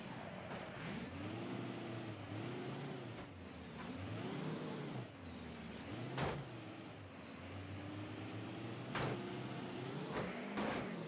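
Duramax 6x6 truck engine in BeamNG.drive, a steady loud drone that rises and falls through repeated revs, with sharp clanks and thuds breaking in at intervals.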